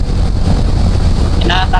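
Strong wind buffets the microphone while riding a BMW F900R naked motorcycle in traffic, a loud steady roar throughout with a brief higher tonal burst near the end.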